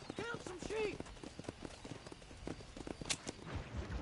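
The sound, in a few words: stagecoach horses, from a video game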